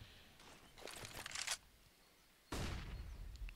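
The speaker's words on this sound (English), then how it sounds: "Oh, that's a big flashbang" A flashbang grenade detonates in Counter-Strike on the Inferno map, a sharp broadband burst that cuts in abruptly and rings on loud, following earlier bursts of gunfire and movement, with no talk over it.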